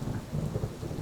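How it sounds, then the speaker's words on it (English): A thunderstorm sound effect: a low rolling rumble of thunder over a dense hiss of pouring rain, steady and fairly close, with no voices. "As another flash of thunder hits"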